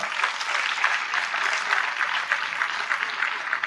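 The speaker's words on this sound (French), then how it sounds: "M. Jano Aoussou Fadio, que je demande d'applaudir fortement." Audience applause at the inauguration of an integrated health centre in Allanikro, a steady, moderately loud patter of many hands clapping throughout, heard at some distance.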